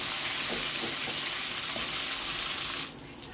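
Long-cut potatoes frying in hot oil left over from frying fish, a loud continuous close sizzle with a few soft stirring knocks, quieting abruptly near the end.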